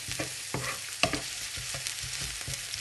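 Onion and garlic sauté in a pan, giving a soft, steady sizzle broken by several distinct scraping stirs. No one speaks.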